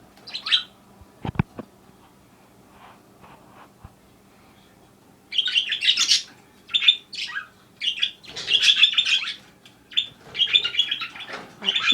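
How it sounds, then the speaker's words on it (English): A pet bird indoors in a kitchen gives bursts of bright chirps and tweets, near and fairly loud, after a sharp knock and a quiet stretch, with the calls coming in quick clusters. "I have a genius bird"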